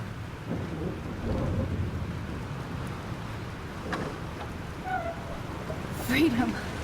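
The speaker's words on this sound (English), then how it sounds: "This storm is real." A thunderstorm with rain rumbles through the Life Is Strange game, steady rainfall and low thunder rolling underneath, while a voice speaks briefly partway through.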